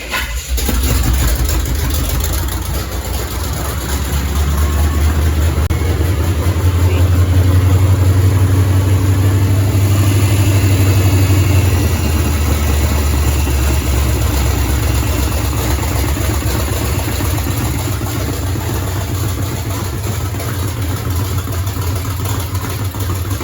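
The engine of a Chevy K5/K10 off-road project truck cranks briefly, catches and settles into a loud, steady, rumbling idle that runs without a break for over twenty seconds, close up and with no talk.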